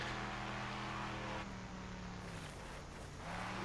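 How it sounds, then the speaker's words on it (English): A car engine in the racing game Wreckfest revs loudly and steadily, easing off briefly before climbing back up, alone with no talking over it. "This engine's definitely better for this car."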